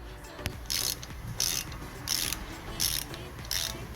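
Close ratchet clicking at a steady rhythm as a size 6 Allen key loosens a front brake caliper bolt on a 2007 SEAT Alhambra, with bright, rapid pawl clicks repeating in bursts about every half second.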